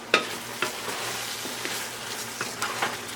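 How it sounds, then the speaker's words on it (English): Jackfruit torta mixture is stirred in a pan with a spoon, producing a soft wet scraping and sizzle with a few distinct clicks near the start and end, close by and without speech. "Now we stir to combine."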